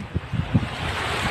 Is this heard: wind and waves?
yes